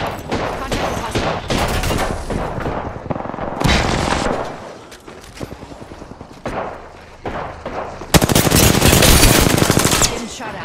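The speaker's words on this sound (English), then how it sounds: "Getting shot at." Automatic weapons fire rattles through a battle royale video game firefight in loud, rapid bursts with short lulls between them and a long, intense volley near the end, while a voice talks at times.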